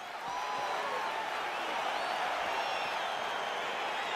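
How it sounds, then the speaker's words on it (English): Arena crowd noise at a heavyweight UFC bout in the EA Sports UFC 4 video game, a steady roar of cheering that swells slightly as the fight begins, with no talk over it. "Crowd getting excited as this fight gets underway"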